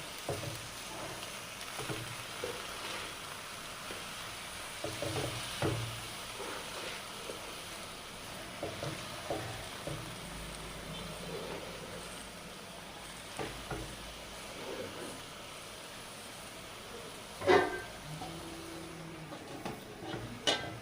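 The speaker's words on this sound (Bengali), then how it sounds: "এবার আমি শাকগুলো দিয়ে দিচ্ছি দিয়ে ঢেকে দেবো" Fresh spinach cooks in a pan for a fish dish, with a soft, low sizzle and occasional faint stirring clatter that run quietly throughout, plus one sharper knock near the end.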